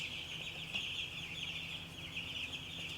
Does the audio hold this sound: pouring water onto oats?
no